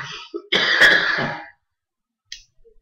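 A philosophy lecturer, speaking in Portuguese during a lecture on Maimonides, gives one harsh, close cough, a rough throat-clearing burst of about a second, followed by near silence and a faint click.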